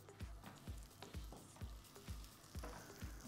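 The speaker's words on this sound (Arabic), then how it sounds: "يشوح البصل في قليل من الزيت حتى يحمر ويكتسب اللون الذهبي" Onions sauté in a little oil on a hot pan, stirred with a wooden spoon: a steady low sizzle broken by regular scraping strokes about twice a second, close and moderately loud, with no talking.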